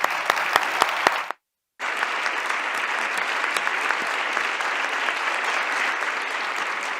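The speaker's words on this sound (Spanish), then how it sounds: "Les damos un aplauso y empezamos." Audience applause in a lecture hall at the Ateneo de Madrid, steady close clapping from a seated crowd, cut by a brief moment of silence early on before it resumes and carries on evenly.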